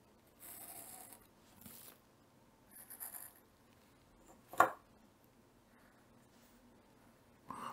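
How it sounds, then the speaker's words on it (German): A pen scratches across paper while a circuit diagram is sketched, in a few short, dry scribbling strokes separated by quiet pauses, with one sharper tap near the middle. "Ich zeichne das jetzt einfach auch"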